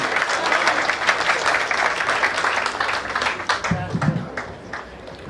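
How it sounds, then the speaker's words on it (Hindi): Audience applause fills the room, a dense wash of clapping sustained throughout, with a brief low murmur near the end. "जोरदार तालियां"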